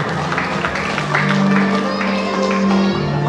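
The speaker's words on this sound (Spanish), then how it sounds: "Fuerte los aplausos, por favor." Loud, continuous applause from a crowd at a school graduation party, a thick wash of clapping hands that stays even throughout, with sustained musical tones playing alongside.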